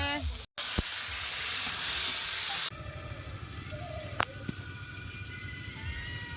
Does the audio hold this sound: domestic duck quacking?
no